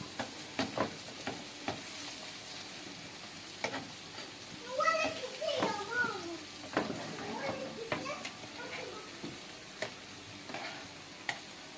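Chicken frying in a pan sizzles at a low, steady level while the pieces are turned, with a few sharp clatters of the utensil and someone talking over it.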